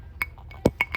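Glasses of Hennessy Pure White clink together for a toast, several bright, short chinks with one heavier knock among them, close and crisp against near silence.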